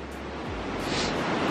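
Outdoors in a remote spot, a river's water rushes in a steady, loud, broadband roar, mixed with gusting wind buffeting the microphone, with no talk.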